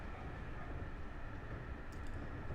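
A bullet train in the driving game Train Drive ATS gives off a steady, even rumbling roar from the cab, broad and unchanging, with a couple of faint high ticks near the end and no talking.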